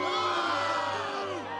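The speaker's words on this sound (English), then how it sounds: "Smithers, are they booing me?" A crowd booes and jeers in a sustained, loud swell of massed voices that holds steady for under two seconds before tapering slightly.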